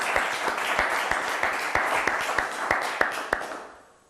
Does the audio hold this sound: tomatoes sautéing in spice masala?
no